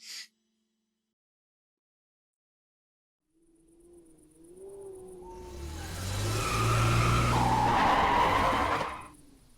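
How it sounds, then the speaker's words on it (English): After a quiet stretch, a video game car engine revs and tires squeal and skid as it does donuts, growing loud and sustained before cutting off abruptly. "Do you need to do donuts? Do you hear that sound, dear Stewie?"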